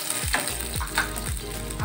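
Square-cut onions fry in a pan for a chilli paneer dish, a steady sizzle broken by rhythmic scraping strokes of stirring, near and continuous with no talk.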